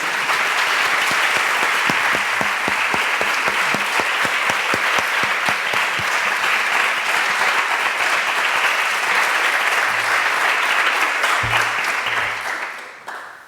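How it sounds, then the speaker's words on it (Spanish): An audience at a talk on opera and total theatre applauds warmly and steadily for a long stretch, the crowded clapping staying full before fading at the very end. "primero un aplauso, por favor, muchísimas gracias"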